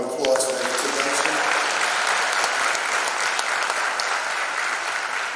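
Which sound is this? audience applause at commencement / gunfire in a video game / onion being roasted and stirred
audience applause at commencement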